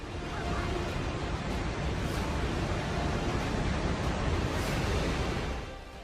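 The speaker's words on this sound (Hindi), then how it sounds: "देखिए पानी की कितनी ऊंची लहरें हैं" Torrential floodwater surges through the Rasuwa area of Nepal during a flash flood, a loud continuous roaring wash of turbulent water that holds steady throughout and eases slightly at the very end.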